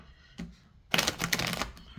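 A brief tap, then a burst of rapid riffling and flicking as a deck of tarot cards is shuffled close by, fading with a final snap.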